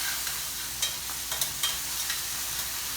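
Green onions sizzling as they fry in a pan, a steady bright crackle with faint stirring scrapes, close and alone.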